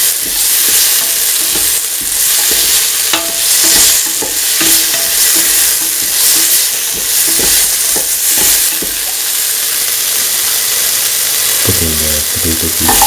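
A spoon stirs a potato, split chickpea and coconut milk stew in a pot, giving loud, irregular scraping and bubbling sizzle that continues throughout, with a few sharper clanks of utensil against the pan near the end.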